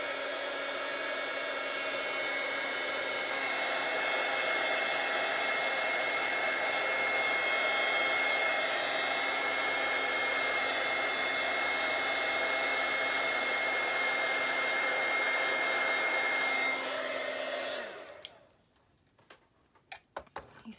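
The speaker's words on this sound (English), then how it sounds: "let's see what happens when we blow dry it" A hair dryer blows steadily on a painting of dried leaves and butterflies, a loud constant whirring hum for about seventeen seconds before it switches off abruptly, leaving near silence.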